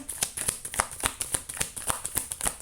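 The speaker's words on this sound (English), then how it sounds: "That wasn't really a shuffle. Let me do that again." Tarot cards riffled and snapped in quick repeated bursts, a crisp papery flutter recurring roughly every quarter second, close and fairly quiet.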